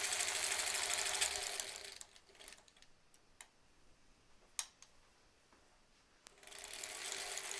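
Sewing machine sewing face masks: two bursts of rapid mechanical whirring, one at the start and one at the end, with quiet clicks and ticks between them.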